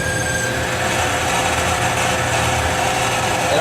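A power tool cuts small serrations into a part for an F-14D Tomcat model build, a loud, steady high-pitched whine with a grinding edge that runs without a break, close by.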